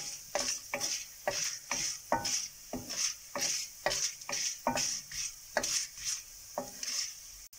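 Ingredients for ven pongal and vegetable kotsu dry-roast in a pan over a low flame, with a close, steady rhythm of stirring scrapes and a faint sizzle between strokes.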